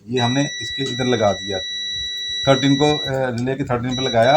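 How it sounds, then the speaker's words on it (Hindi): A Honeywell TMG 740-3 burner controller relay emits a steady, high-pitched electronic beep that runs continuously while someone talks over it nearby. "तो ये देखें बीप की आवाज़ आपको सुनाई दे रही होगी"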